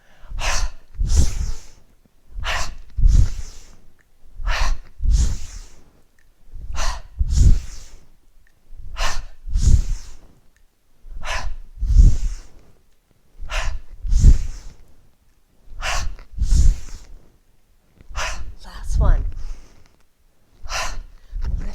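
Rhythmic breathing during a yoga chopping exercise, with about sixteen audible inhales and exhales, some puffed and some sighing, repeating steadily every second or so, close and clear, with no talk.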